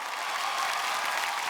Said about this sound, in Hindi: एक बार जोरदार तालियां हो जाए मैम के लिए